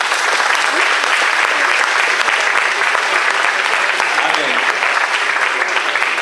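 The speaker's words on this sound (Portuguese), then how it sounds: "Quero pedir os jovens uma salva de palmas para os idosos" Young people in a church congregation applaud the elderly with a sustained round of dense clapping, loud and unbroken for several seconds, a crowd murmur blending beneath.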